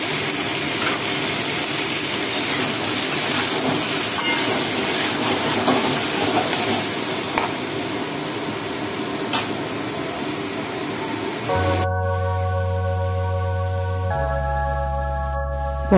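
Pointed gourd (potol) pieces coated in salt and turmeric fry in hot oil, giving a steady, dense sizzle and hiss that continues for most of the stretch before cutting off, followed by faint tonal sounds.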